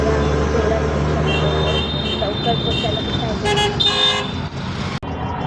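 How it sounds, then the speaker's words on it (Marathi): Traffic on a city road with auto-rickshaws rumbles past while car horns toot in a few short bursts, loud and nearby, as someone speaks over the noise. "तर हा आहे बाहेरचा रोड"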